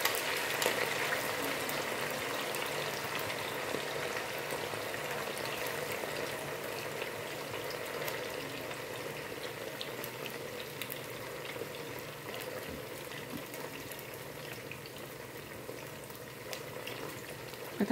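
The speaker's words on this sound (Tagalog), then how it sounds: "At mainit na yung mantika, so ipirito natin yung lean pork." Lean pork fries in hot oil in a frying pan, giving a steady, even crackling sizzle with faint spitting pops that carries on without a break, moderately quiet and close.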